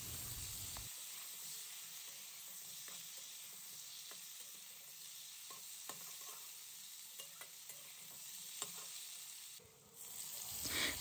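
Chopped onion frying and sizzling in oil with partly boiled potatoes for a Bengali katla fish curry, a steady close hiss broken by scattered stirring clicks, with no voices.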